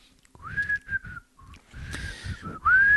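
Someone whistles a few sliding, tuneful notes close by, with low thumps and rustles underneath between the phrases.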